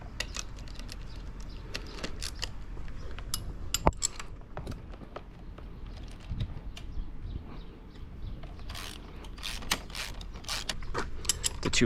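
A ratchet wrench with an extension works the handlebar bolts on an SSR 125 automatic dirt bike, giving close, irregular metallic clicking and clinking bursts with small clunks, no talking.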